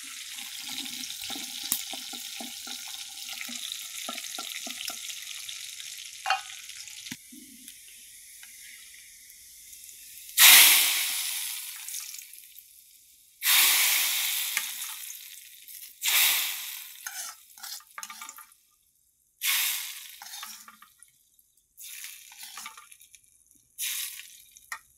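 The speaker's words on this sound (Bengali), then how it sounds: "রসুন আর তেল এগুলো দিয়ে বাগার দেওয়া হবে এখানে" Garlic and oil tempering poured into a pot of lentils with banana florets, a steady hiss that erupts into several loud bursts of sizzling, each fading before the next, close and with no talk.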